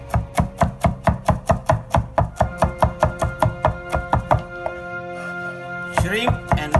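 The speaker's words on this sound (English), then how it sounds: "we're going to chop the veggies, which is the okra" Okra is chopped with a knife on a board in quick, even, close thuds, about twenty strokes at a steady rhythm, then a pause and a brief rustle of handling.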